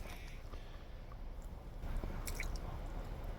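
Wet squelching and dripping, with water splashing and trickling off a soaked leather knife sheath, fairly close and steady throughout.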